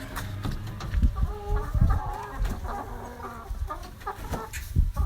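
Several hens cluck close by in a busy, irregular chorus of short throaty calls, with scuffling noises mixed in.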